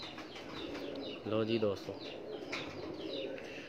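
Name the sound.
pigeons cooing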